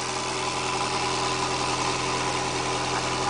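A 1942 Willys Jeep idles with a large exhaust leak where the pipe has snapped off. The engine gives a steady, rough, throbbing rumble with a broad hiss, constant and close, and nobody speaks.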